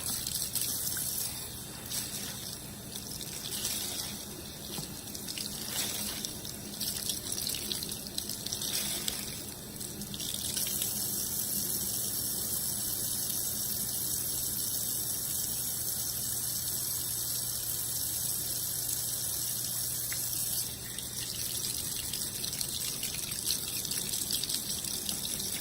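Tap water runs steadily into a sink as soap is rinsed out of a makeup brush, a continuous close splashing hiss with slight shifts in the flow.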